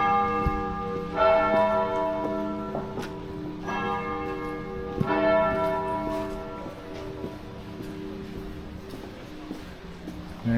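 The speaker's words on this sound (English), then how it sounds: "There we go, the bells, the bells" Church bells ring out on Union Street in Aberdeen with several resonant strikes spaced a couple of seconds apart, rich overtones lingering and fading, heard from a moderate distance outdoors.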